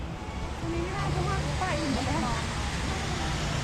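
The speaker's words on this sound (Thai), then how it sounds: "ด้านนี้มีน้ำตก" A waterfall at a cafe in Pattaya, a steady rushing hiss of falling water running throughout, with someone talking over it.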